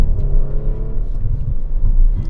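A loud 2019 Audi RS5 engine rumbles steadily with low revving and sputtering crackles and pops from the exhaust, close by and continuous.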